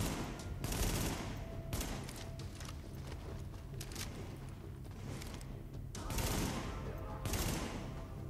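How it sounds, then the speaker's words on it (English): Bursts of automatic gunfire rattle in the shooter game Tom Clancy's The Division, rapid clustered shots recurring several times at moderate distance amid continuous game noise. "Who's shooting me? Someone's shooting me."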